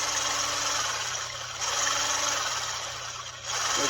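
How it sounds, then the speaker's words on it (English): An electric whisk machine beats powdered sugar for an angel food cake toward medium peaks, giving a steady, close motor whir that holds throughout with slight dips in loudness. "I'm gonna turn on my magic whisk machine here"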